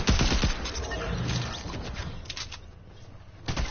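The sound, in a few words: pistol gunfire in a battle royale video game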